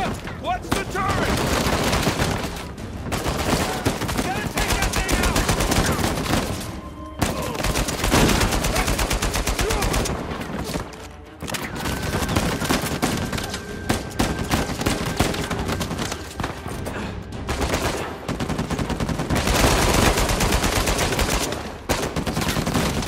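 Sustained turret gunfire in the video game Uncharted 4, loud and nearly continuous heavy automatic fire with brief pauses, blended with explosions and game action, and voices shouting at times.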